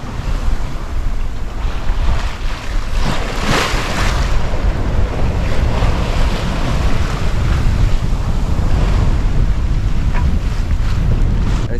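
Constant roar of 15 to 20 knot wind and breaking waves around a sailboat making 5.6 knots on an offshore passage near Bora Bora, loud and steady with heavy wind buffeting on the microphone and occasional surges of spray.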